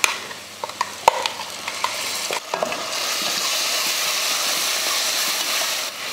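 Ground masala paste drops into a hot pan and is stirred, giving a few scraping clatters and then a steady, loud frying sizzle that continues to the end, with no one talking.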